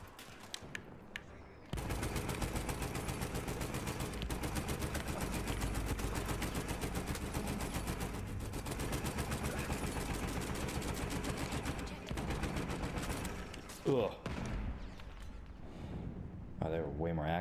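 Sustained rapid gunfire from a shotgun-like weapon in Battlefield 1, a dense continuous barrage of close, loud shots lasting most of the stretch, with chaotic battle noise and a short pause near the end.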